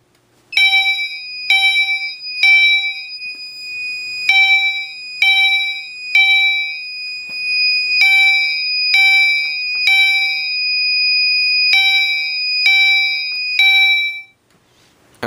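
A fire alarm system test sets off a zone 2 alarm bell, sounding as a loud electronic chime in repeated bursts, sometimes held longer, then stopping abruptly near the end.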